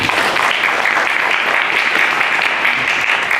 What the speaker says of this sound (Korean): 이 정도 박수 한번 치고 합시다